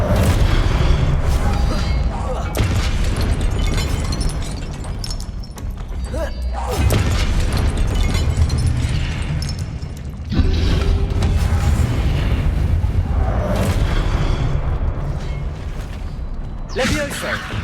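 Booming explosions from the Confringo spell in the Hogwarts Legacy video game thunder in repeated heavy blasts with rumbling low-end impacts, mixed with game effects and spoken voices over the top.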